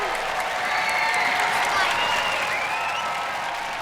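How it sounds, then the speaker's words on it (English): Steady applause and crowd noise from a studio audience at a televised robot combat show, filling the short stretch alone at an even, sustained level. "Wish them luck, ladies and gentlemen. Give a round of applause."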